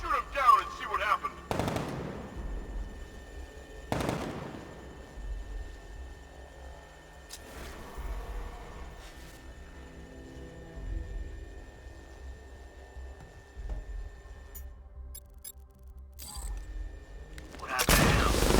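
Gunfire in Batman: Arkham Knight rings out as a few sharp, loud bursts spread over a low steady hum, with quieter stretches between the shots.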